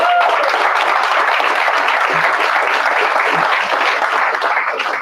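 Loud, dense applause from a live training audience fills the whole stretch, a steady wash of many hands clapping close by with no pauses.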